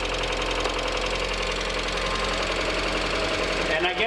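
A 1.8 Mazda Miata engine idles just after an engine swap, a close, steady knocking rumble that carries on evenly throughout, with a faint voice briefly rising over it near the end.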